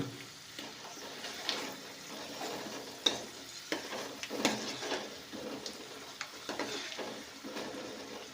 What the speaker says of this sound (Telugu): ఇలా వేగనివ్వాలి